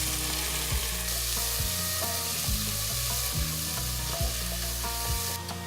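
Onions sizzling in a pan with green cardamom, cloves, cumin seeds and poppy seeds, a dense and steady frying hiss throughout, loud and close, with no talking.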